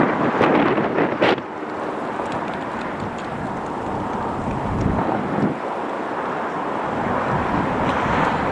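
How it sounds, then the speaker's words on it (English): Wind buffets a camera microphone during plane spotting on the north side of Los Angeles International Airport, a steady loud broadband rumble with stronger gusts near the start and around the middle. "Wind just blew that camera."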